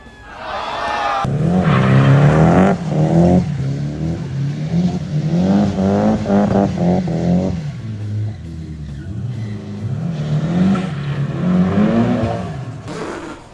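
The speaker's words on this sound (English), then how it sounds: "doing a burnout? Grabbed 4th instead of 2nd." A car doing a burnout in the street, its engine revving hard and loud for the whole stretch, with rising and falling engine pitch and tire squeal underneath, close by.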